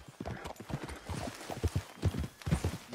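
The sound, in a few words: horse hooves clip-clopping in video game Red Dead Redemption 2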